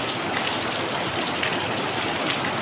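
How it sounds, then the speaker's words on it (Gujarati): Heavy rain pours steadily over a farm field, a dense, even hiss of falling drops that continues without pause. "અત્યારે થોડુંક જોર વધી ગયું છે વરસાદનું"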